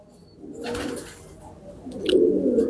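Breeding pigeons in Karachi coo softly nearby in low, rolling bursts, with a faint rustle and a brief higher chirp in the background.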